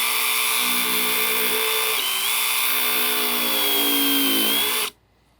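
A DeWalt 18-inch band file carves PVC with a steady high-pitched motor whine and abrasive grinding, loud and close, holding constant for several seconds before cutting off sharply.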